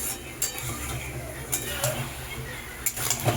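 Spices stirred together in a pot for a mutton kosha with potatoes, clinks and scrapes of a utensil against the pan recurring over a steady hiss of heat, with a voice talking throughout.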